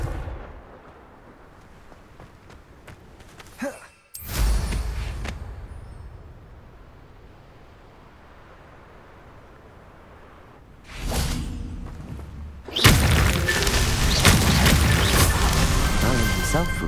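A Confringo spell in Hogwarts Legacy bursts with sudden booming blasts and whooshes, one heavy crash early, then a longer loud roaring burst near the end, separated by a quiet stretch.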